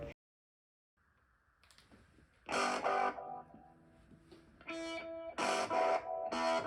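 Heavily processed, distorted electronic tones from overdrive, phaser and reverb effects through a homemade preamp/effects box swell and cut out in bursts, with a swirling, echoing quality, after a brief silence.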